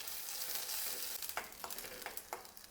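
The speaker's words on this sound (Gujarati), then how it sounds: "એ પેસ્ટ પણ આપણે કડાઈમાં ઉમેરી દઈશું. બધું સરસ મિક્સ કરી લઈશું." Masala paste loosened with a spoonful of water goes into a hot kadai and is mixed, giving a close, constant sizzle broken by a series of rhythmic spoon scrapes against the pan.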